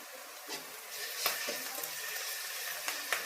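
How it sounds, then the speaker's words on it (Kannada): Ginger garlic paste and onions sizzle in a pan while a spoon stirs them, a steady close frying hiss broken by a few sharp scraping clicks, with no voices. "ಈರುಳ್ಳಿ ಫ್ರೈ ಆಗಿದೆ, ಸೇರಿಸ್ಕೊಂಡಿದ್ದೀನಿ ಶುಂಠಿ ಬೆಳ್ಳುಳ್ಳಿ ಪೇಸ್ಟು"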